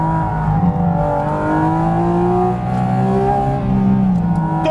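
A high-performance car engine revving hard, its pitch climbing, dipping and rising again in a loud, close, continuous howl with no one talking.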